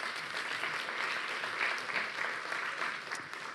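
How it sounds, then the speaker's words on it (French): Audience applause welcoming a journalist onto the stage at a public talk in Toulouse, a continuous wash of many hands clapping, fairly quiet and distant, holding steady for several seconds. "sous vos applaudissements, mesdames, messieurs"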